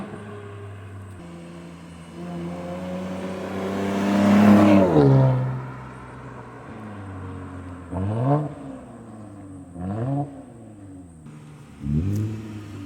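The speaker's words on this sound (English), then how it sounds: "Let's go ahead and listen to this exhaust because it sounds very good." A bagged Lexus ES 350 with a V6 and modified exhaust idles, then rises into one long rev. Three short, sharp revs follow, all close and loud with no talking.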